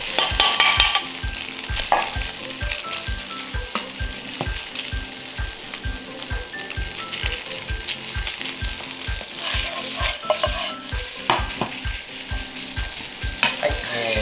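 Egg and jasmine rice are stir-fried in a wok for Jinhua ham fried rice in a Chinese restaurant kitchen. A loud sizzle runs continuously beneath rapid, evenly spaced scraping strokes of the spatula against the metal.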